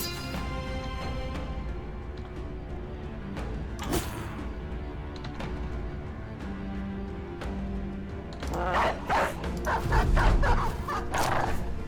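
Dog barks break out in a video game battle among footmen and an Arbalester, a few sharp yips near 4 seconds, then a denser cluster of barking from about 8.5 seconds on, all sitting over constant game music and battle noise.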